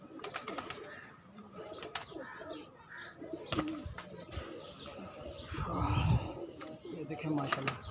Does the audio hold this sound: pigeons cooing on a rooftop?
yes